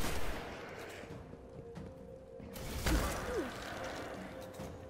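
Rapid gunfire from weapons in the sci-fi shooter game Destiny, a dense barrage of shots with a loud burst near the middle.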